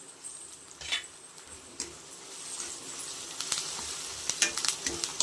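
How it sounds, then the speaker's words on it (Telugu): Onions frying with freshly added curry leaves in a pan for a country chicken curry, a steady soft sizzle crackling nearby, with scattered scraping stirs and sharper pops that thicken toward the end. "సో ఇప్పుడైతే మన ఎర్రగడ్డలు కొద్దిగా వేగాయి ఫ్రెండ్స్. ఇప్పుడు కరివేపాకు యాడ్ చేసేద్దాం."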